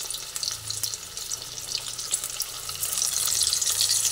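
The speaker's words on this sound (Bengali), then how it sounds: "শিমগুলোকে ভেজে নিচ্ছি।" Flat beans stuffed with shrimp filling fry in hot oil in a kadai, giving a steady close sizzle and crackle that grows louder and denser toward the end.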